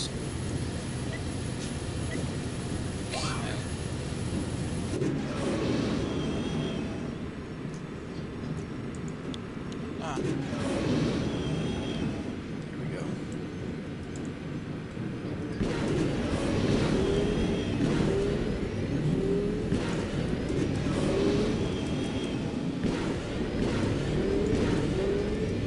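A swoop racing bike accelerating in Knights of the Old Republic, a continuous rushing engine roar that surges and swells in waves over nearly half a minute, with occasional higher whines and ticks on top.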